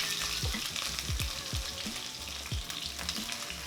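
Garlic and shrimp frying in hot oil in a pan for Thai drunken noodles, a busy crackling sizzle with bursts of spattering and stirring bumps, close and continuous.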